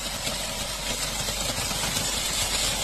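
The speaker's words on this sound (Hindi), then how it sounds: "ये कुछ इंजन से आवाजें आ रही है बहुत बुरी तरीके से।" Volkswagen Polo 1.2 litre engine with a broken multi clutch, giving a steady, harsh mechanical drone and rattle that runs throughout at close range, with no talk over it.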